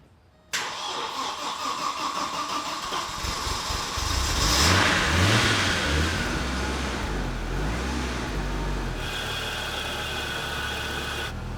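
A 1994 Audi S4, unused for a long time and with no working brakes, cranks and catches, then its engine rises into a loud, swelling rev before dropping back to a steady, rumbling idle close by.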